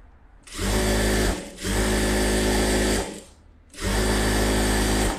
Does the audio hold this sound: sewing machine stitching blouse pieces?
yes